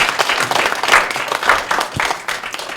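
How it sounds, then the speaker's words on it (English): A university audience in Botswana gives a lecture-hall round of applause to a Rinpoche at the close of a question-and-answer session. The dense, even clapping is fairly close and carries on throughout. "can we give a round of applause to the Rinpoche one last time?"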